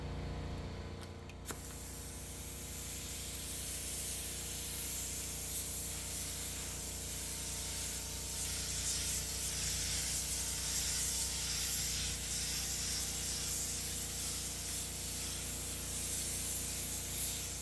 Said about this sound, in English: Okay, got the base coat on. Now for the pearl.